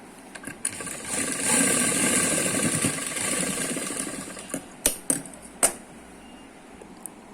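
A sewing machine stitching palazzo pants runs in a fast whirring burst for about three seconds, followed by several sharp clicks and knocks as the fabric is handled.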